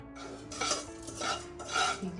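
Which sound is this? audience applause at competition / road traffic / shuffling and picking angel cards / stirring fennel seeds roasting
stirring fennel seeds roasting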